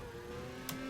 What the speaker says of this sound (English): the sound you can hear at the moment, it's the test race which is done with AI cars